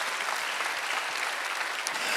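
Church congregation clapping during a Sunday worship service, a steady, moderately loud burst of many hands applauding together with no voices over it.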